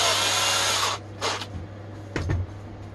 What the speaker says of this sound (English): we're going to use a drill bit because we want to pilot all the holes that we're going to drill